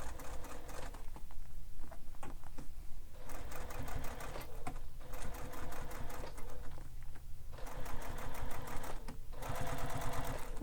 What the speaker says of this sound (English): we're going to top stitch that panel, so across the base panel, through the seam and through the base panel